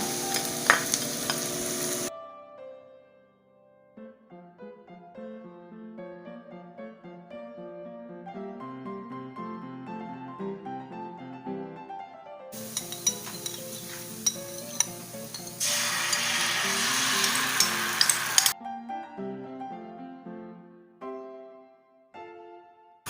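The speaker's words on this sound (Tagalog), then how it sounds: "so ginigisa natin ngayon ang bawang." Garlic sautés in hot oil, with loud sizzling bursts at the start and again in the middle, heard over steady background music.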